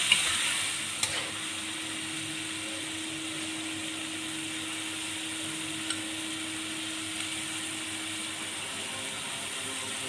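Tomato paste stirred into biryani gravy in a hot pan, a constant hissing sizzle with a faint steady hum and a couple of soft knocks.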